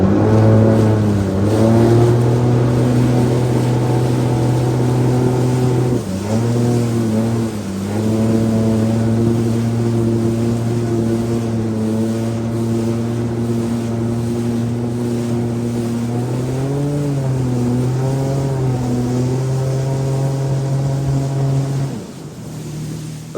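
A jet ski engine on Table Rock Lake drones steadily and loudly up close, its pitch dipping and rising a few times as the throttle changes, with wind and water noise underneath.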